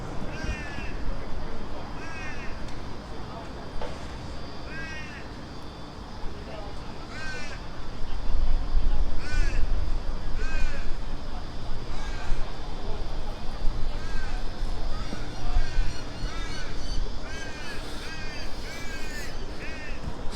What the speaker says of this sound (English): listen to that crow